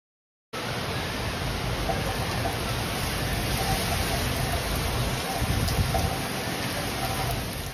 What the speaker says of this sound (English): The Spanish region of Valencia has been hit by severe storm that has brought torrential rain